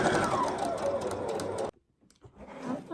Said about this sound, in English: you start sewing by ½ inch